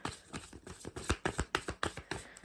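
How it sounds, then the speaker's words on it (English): Close, quick riffles of a pile of tarot cards being shuffled, a rapid run of about a dozen crisp slaps and flutters with no voices. "I'm just going to finish the pile shuffling."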